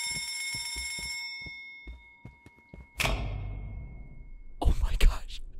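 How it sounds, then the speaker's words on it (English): A fire alarm rings in a video game, a steady electronic bell tone for about a second before cutting off, followed by scattered thumps and a sudden loud burst of noise. "A fire alarm."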